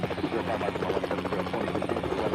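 Steady helicopter rotor chop and engine drone in the video game Helicopter Simulator 2014: Search And Rescue, a continuous rhythmic pulsing hum at even loudness.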